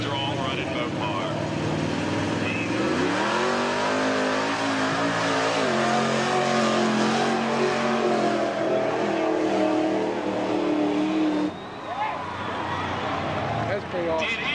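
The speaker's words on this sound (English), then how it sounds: "Running the 40 Dodge for horsepower" A Dodge-powered mud bog truck roars with a steady, loud engine drone at a 1992 speedway monster truck and mud bog show, the revs climbing and holding before a brief dip, with an announcer talking over it.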